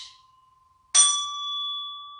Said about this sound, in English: this is my rainbow bells, and this is the sound that the red makes